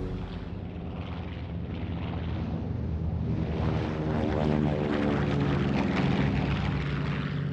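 Steady drone of a U.S. Navy Catalina patrol plane's propeller engines, a loud continuous throbbing hum with a slight swell midway, heard alone without voices.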